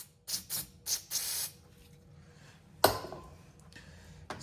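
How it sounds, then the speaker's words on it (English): Short bursts of carb cleaner sprayed onto a VW Rabbit Mk1 diesel alternator, four quick hissing squirts in a row, then a louder sharp burst after a pause, with faint background noise between. "I even got some carb cleaner."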